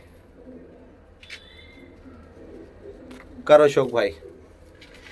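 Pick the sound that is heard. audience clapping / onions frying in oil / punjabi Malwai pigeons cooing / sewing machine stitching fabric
punjabi Malwai pigeons cooing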